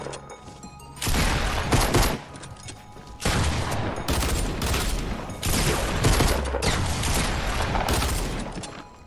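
Rapid bursts of gunfire in Fortnite Battle Royale, several loud volleys separated by brief pauses, dense and sustained across the stretch with no talking.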